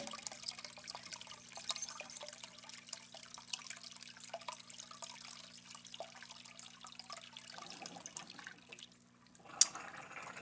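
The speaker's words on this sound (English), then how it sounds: "let's watch the bell siphon. You can hear it starting to drip over." Water dripping and trickling from a bell siphon in a small apartment aquaponics setup, a steady stream of soft, close drips and light splashes over a faint low hum, with a brief louder splash near the end.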